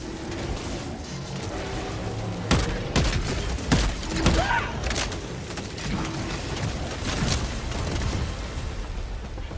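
Gunfire in the video game Helldivers 2, a handful of sharp, loud shots with booming impacts cutting through a dense, continuous backdrop of battle noise.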